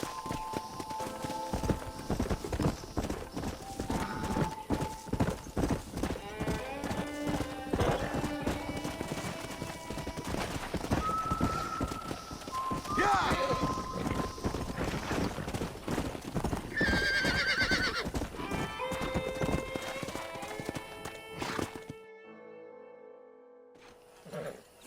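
Several horses trot with steady clip-clopping hooves while neighs and whinnies ring out repeatedly, before the sound cuts to near silence at the end, from the video game Red Dead Redemption.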